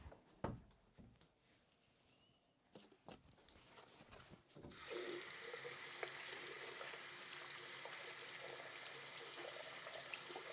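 Tap water runs steadily over a stamp cleaner pad at a scrapbooking craft table, starting after a few soft taps and handling noises and then continuing as a broad, gentle rush, fairly quiet.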